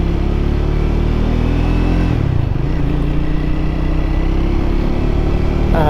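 A Triumph Speed 400 motorcycle engine drones loud and close throughout while riding, with a steady low rumble, a brief dip in pitch near the middle and rising revs right at the end.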